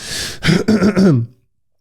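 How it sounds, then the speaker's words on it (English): A single throat-clearing cough up close, a short rough burst followed by a gravelly, voiced rasp that trails off into silence. "Excuse me for coughing."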